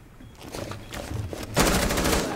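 Rapid gunfire from Rainbow Six Siege, a crackling burst of shots that swells sharply louder midway and keeps going to the end, with no talking over it.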